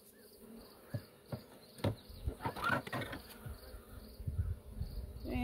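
Honey bees buzz around a 3D printed hive whose frames hold capped honey, a close, wavering hum broken by knocks and rustles as the hive is handled.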